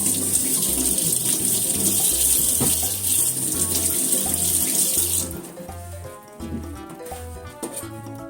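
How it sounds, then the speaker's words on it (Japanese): Carrots are washed under a running kitchen tap, a loud steady gush of water at first, then the stream softens and changes tone as the carrots are rubbed beneath it. "人参洗いますね。"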